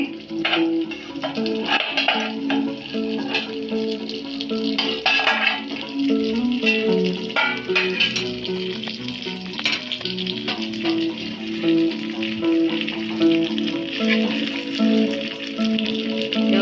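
Rava-coated karli fish fry in a pan, sizzling steadily and close, with clinks and scrapes as the pieces are turned over, and no one speaking.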